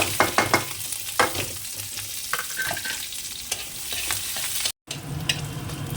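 Garlic and green chilli fry in oil with radhuni, a close, steady sizzle punctuated by sharp spatula scrapes and knocks against the pan, with a momentary dropout near the end.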